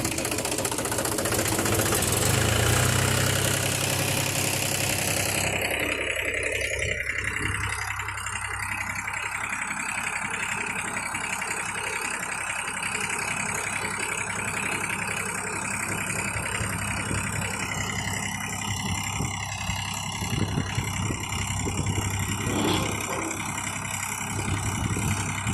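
A tractor engine idles steadily through a farm unloading, a constant mid-pitched mechanical drone with a knocking texture and occasional shifts in tone, and a voice faintly present.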